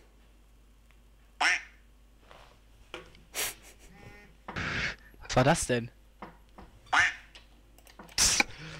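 A duck quacks in several short bursts during a Euro Truck Simulator 2 truck-driving session, mixed with people chatting and a low background hum.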